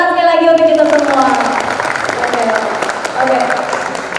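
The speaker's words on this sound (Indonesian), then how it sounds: "Tepuk tangan sekali lagi untuk kita semua." Audience applause at a televised panel discussion on stunting, a steady wash of clapping from a crowd that continues under ongoing music and voices.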